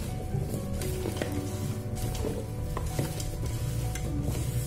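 Vegetables being stirred and mixed in a pan for roasted chicken with veggies, a steady close scraping and soft sizzling with occasional light clinks of a utensil against the pan.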